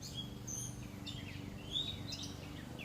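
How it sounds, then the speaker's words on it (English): Faint bird chirps and tweets come from a distance, scattered over a low steady background hum. "I hear the fucking birds chirping."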